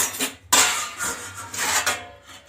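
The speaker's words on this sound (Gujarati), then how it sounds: "પહેલાં વાસણ ચડાવી દઉં" Metal pots and utensils are set down and shifted in a home kitchen, with a sharp clank near the middle, a second clatter toward the end and rattling in between. No speech.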